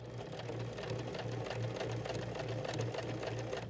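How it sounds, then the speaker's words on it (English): A sewing machine stitches fabric slowly for a face mask, a steady fast mechanical whir and rhythmic needle clatter running continuously, close and fairly quiet. "keeping the edge of my fabric on the edge of the presser foot and going nice and slow, guiding the material"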